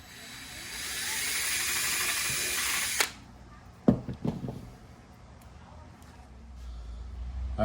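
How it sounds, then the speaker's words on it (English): An Eastwood dual-voltage power drill whirs steadily for about three seconds, then stops, followed by a few clunks and handling noises. "we're ready to drill it right here in the center."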